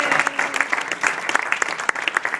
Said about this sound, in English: how about another round of applause for our amazing assistant?